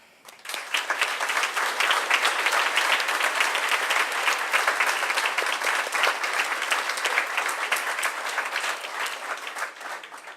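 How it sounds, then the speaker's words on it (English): Audience applause at a Bay Path University physician assistant graduation ceremony for the class of 2018, a steady, full round of clapping from a large crowd lasting about ten seconds before tapering off. "by a round of applause"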